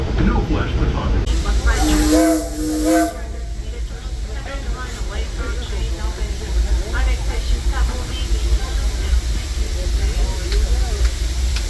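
Disneyland Railroad steam train running during the park's 70th birthday celebrations, a continuous loud rumble and hiss of rolling wagons with a brief whistle-like tone early on, heard under an announcer's voice.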